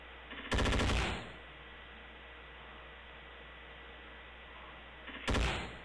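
Two loud bursts of automatic gunfire from the video game Endless War 3, one near the start and one near the end, separated by a steady low background hum with no talking.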